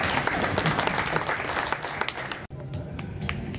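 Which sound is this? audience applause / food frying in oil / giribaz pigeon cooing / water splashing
audience applause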